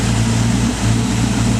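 A 1953 Chevrolet 3100 pickup truck engine idles close by, a loud, steady low drone with a constant hum and no pauses or voices.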